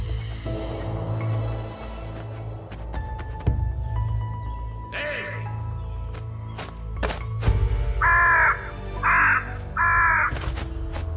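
A crow in an animated cartoon gives several loud, harsh caws, with three clear calls close together near the end. Scattered thuds and soft ambient tones sit under the calls, with no talk.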